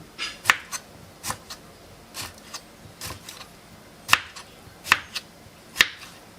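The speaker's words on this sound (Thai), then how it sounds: "เราหั่นแตงกวาตาม ชอบ เลย นะคะ ใส่เยอะเท่าไหร่ก็ ได้ นะคะ" A knife slices cucumber on a cutting board in sharp, crisp taps, about eight cuts spaced irregularly, close and clear against a quiet kitchen background.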